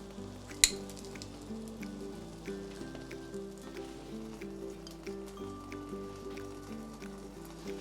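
Sliced kashar cheese and sucuk sizzle in a pan with a soft, continuous crackling hiss and scattered light pops, one sharper click near the start, heard close and alone.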